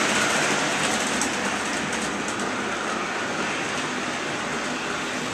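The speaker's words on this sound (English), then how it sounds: "I've been taking so much flack for how fast I run my stupid trains" A continuous rumbling model train sound from a 1958 Lionel set running slowly on track, with a steady hiss and faint clattering, running evenly throughout without pauses.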